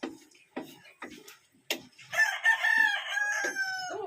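Live chickens nearby: a few short clucks, then a long loud rooster crow, followed by more clucking, heard close with no talk.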